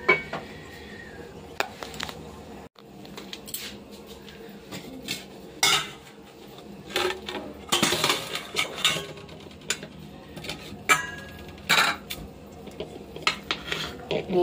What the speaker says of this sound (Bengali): মেয়ের জন্য ভাতটা বেড়ে নিচ্ছি এখন।